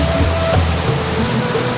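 Rain falls steadily on the summit of Mount Arca, a dense, even hiss that is close and fairly loud with no voices.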